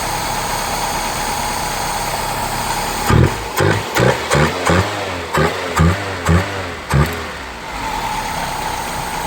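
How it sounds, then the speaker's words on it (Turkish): A car engine runs on LPG gas after a mixer change, with the air filter housing removed. It idles steadily, then gives a rhythmic series of about eight short, sharp revs before settling back to idle. "araba çalışıyor arkadaşlar 10 numara"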